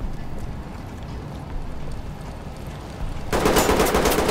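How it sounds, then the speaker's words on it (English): Gunfire in the tactical shooter game Ready or Not, a dense rattle of rapid shots underlying the scene that swells sharply louder near the end, with no talk over it. "Oh, shots fired."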